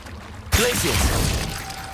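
Glacius ice spell cast in Hogwarts Legacy: a sudden loud burst with a crackling, shattering edge that sustains as a bright icy hiss before slowly easing off.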